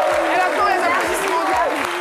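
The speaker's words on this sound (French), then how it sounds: "Elle attend les applaudissements." Studio audience clapping during a New Year's Day special edition of a midday TV show, busy applause with a pulsing rhythm mixed with voices and tonal sound, fairly loud and close.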